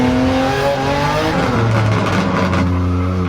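A RUF CTR Yellowbird engine roars loud and close at speed on a racing circuit, its pitch stepping as it downshifts to third gear, with a continuous dense mechanical drone throughout.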